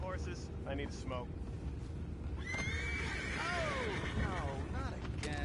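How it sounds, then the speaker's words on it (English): Horses neigh in an animated western scene, two loud whinnies with falling, wavering pitch and a short snort, over a continuous background rumble while a voice speaks briefly at the start. "You mind the horses?"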